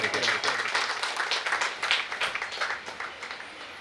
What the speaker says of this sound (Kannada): ಜೋರಾದ ಚಪ್ಪಾಳೆಗಳು